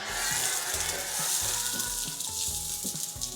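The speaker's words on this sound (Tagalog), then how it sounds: "So, ang una is igigisa lang natin yung bawang at sibuyas." Garlic and onion sizzle in a hot pan for a home-cooked meatball dish, a steady close frying hiss with soft stirring scrapes and clinks running throughout without any talk.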